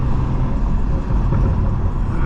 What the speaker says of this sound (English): Let me put my window down a little bit for a sec so you guys can hear the car even better.